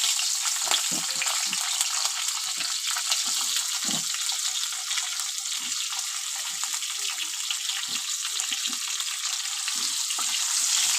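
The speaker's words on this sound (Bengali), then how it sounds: "আলুগুলো এবার একটু ভেজে নেব।" New potatoes frying in hot oil with cumin seeds in a wok make a loud, continuous sizzle with occasional stirring scrapes and pops, close up and with no voices.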